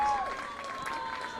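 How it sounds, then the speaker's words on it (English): A crowd at a Cal Ripken 10U youth baseball World Series game cheers and claps as the Crown Point Red Bulldogs take the field, a loud burst that fades quickly into steady crowd noise with a whistle-like tone running through it. "So Crown Point takes the field with a loud cheer behind them."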